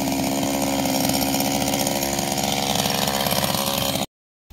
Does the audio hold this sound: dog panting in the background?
no